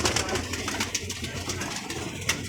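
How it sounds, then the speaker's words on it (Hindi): Pigeons in a loft coo softly and continuously, nearby and layered, with occasional brief wing or perch sounds. "ये देखें माशाल्लाह, कबूतर देख लें आप।"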